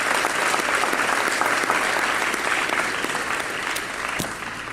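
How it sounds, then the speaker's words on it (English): A graduation audience applauds the parents, dense sustained clapping from a large crowd that carries evenly throughout and tapers slightly at the end. "I want you to join me in giving your parents a round of applause for what they've done as well."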